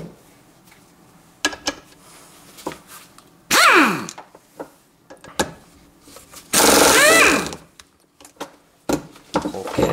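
A pneumatic air impact gun loosens bolts on a Toyota Camry 2.2 engine, firing two loud, close, rattling bursts of about a second each, with scattered tool clanks and handling noises between them.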